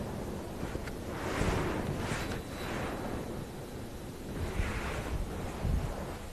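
Gusty wind rumbles against the microphone in rising and falling waves, loud low buffeting with no other clear sounds.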